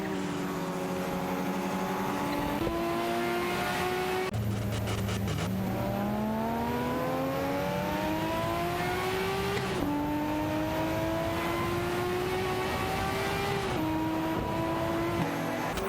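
Race cars in a video game, including a Ferrari 280A GTO and a Porsche 911 Carrera RSR 3.8, scream through continuous high-revving engine whine with repeated gear shifts and pitch climbs, loud and close throughout.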